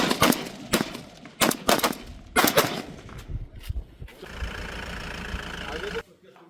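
BSF soldiers fire at the Jaisalmer border: a burst of several loud, sharp gunshots in quick succession, then a steady engine-like roar, with voices heard.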